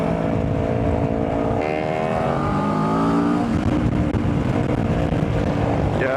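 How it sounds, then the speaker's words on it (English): A QJ Motor SRT 700 motorcycle with a Kawasaki 650 engine accelerates, its engine note rising through the revs in a loud, close, continuous growl with wind noise, no talking. "you see this acceleration, like that's the characteristic of the Kawasaki 650 engine"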